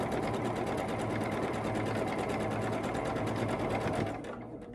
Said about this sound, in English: I'm gonna grab it on the side I'm sewing, line it up, and sew.